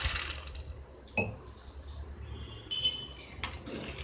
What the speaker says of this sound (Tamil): இப்போ அதில் ஒரு 10 நிமிஷம் தண்ணி ஊற்றி ஊற வச்சிடலாம்